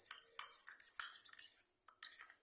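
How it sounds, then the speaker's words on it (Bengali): A metal spoon stirs turmeric, chili powder and cumin powder into water in a small bowl. Quick scraping clinks come in a busy burst, pause briefly, then resume, close and fairly quiet. "জল দিয়ে ভালো করে এটাকে গুলিয়ে নেব"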